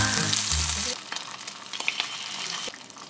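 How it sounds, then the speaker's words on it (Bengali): Fish frying in a home kitchen as dal is started, a loud sizzle at first that cuts off abruptly, followed by quieter scattered clinks, stirring and light kitchen noises. "একদিকে মাছ ভাজা শুরু করি"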